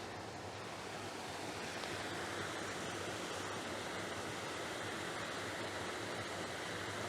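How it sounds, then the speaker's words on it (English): Water pours and rushes steadily through an old ragstone sluice at Bradbourne Lakes in Sevenoaks, a constant, full broadband roar close by with no pauses and no voices. "I think I might have found that old sluice, that ragstone sluice that I mentioned earlier."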